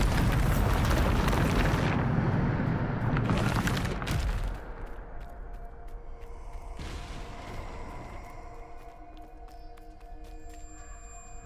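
A Bombarda spell explodes in the Hogwarts Legacy video game, a loud, roaring blast lasting about four seconds that then fades into a quieter rumbling tail with a smaller burst and faint game tones.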